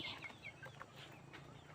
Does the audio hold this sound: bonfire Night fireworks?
no